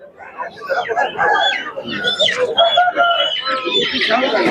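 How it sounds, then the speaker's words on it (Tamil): A fighting rooster crows several times, loud and close, at the Kundrapalli poultry market in South India, while people talk over the calls. "சண்டை சேவல்"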